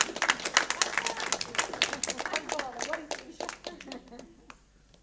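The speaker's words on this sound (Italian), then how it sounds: "facciamo un applauso a mia moglie, perché c'è." Church congregation clapping for the pastor's wife, a burst of many hands that is fairly close and fades toward the end, with voices mixed in.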